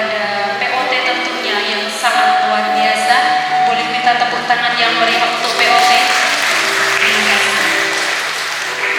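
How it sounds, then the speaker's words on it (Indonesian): Parents and guests applauding at a sixth-grade primary school farewell ceremony in Indonesia, a broad wash of clapping mixed with music or voices under it, continuous and moderately loud throughout. "Boleh minta tepuk tangan yang meriah untuk POT"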